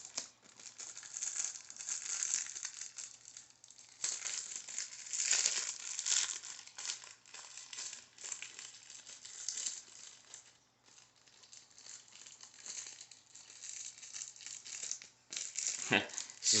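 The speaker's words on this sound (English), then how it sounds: "This is basically cellophane." Cellophane wrapping from a carbon fiber telescopic fishing rod and reel travel kit crinkles and crackles loudly and close, in continuous bursts with brief pauses.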